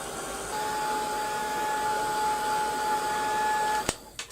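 A hair dryer blows steadily at close range to dry a paintbrush decorated with mixed-media paint, a constant whirring hum that cuts off near the end, followed by a few sharp knocks.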